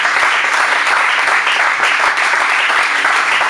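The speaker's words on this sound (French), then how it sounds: "Est-ce que tu peux acclamer très fort pour ce Jésus?" A church congregation at a conference applauds loudly and steadily, a dense wash of many hands clapping together throughout, with cheering voices faintly mixed in.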